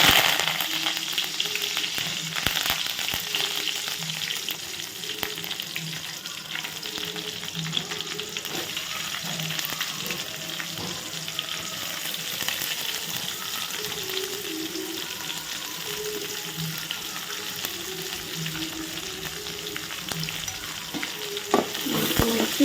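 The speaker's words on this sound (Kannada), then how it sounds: "ಇವು ಎಣ್ಣೆ ಒಳಗೆ ಹಾಕಿದ್ರೆ ಮತ್ತು ಇದು ಎಲ್ಲನೂ ಈಗ ಹುರ್ಕೋಬೇಕು" Onions, chillies and curry leaves frying in oil for a chicken dry dish, a constant close sizzle with occasional stirring scrapes against the pan, steady throughout.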